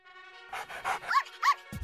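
A dog, apparently a toy or cartoon-style pup in a Halloween doll play scene, gives a few short, clear barks and yips in quick succession, close up and moderately loud, with no talking over them.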